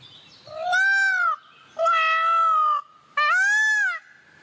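A peacock calls three times, each a loud, drawn-out, strongly tonal wail, with short quiet gaps between the calls.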